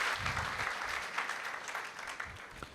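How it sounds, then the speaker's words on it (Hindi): Congregation applause during a Mother's Day church service, a steady wash of clapping lasting a few seconds with some faint voices mixed in. "भरपूर तालियों में माँओं की खिदमत को सलाम करते हैं।"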